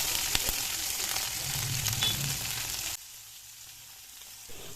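Pieces of bata fish, pasted with salt, sizzle steadily in hot oil in a frying pan, a dense close crackle for about three seconds before it drops away to near quiet.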